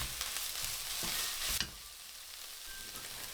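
Ground beef fries in a pan while being stirred, a steady close sizzle with scraping strokes and a sharp scrape near the middle, no voices.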